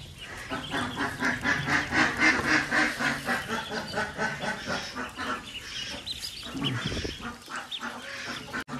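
A flock of ducks quacks continuously and loudly at close range while eating feed, a dense overlapping chorus with a pulsing rhythm that thins briefly near the end.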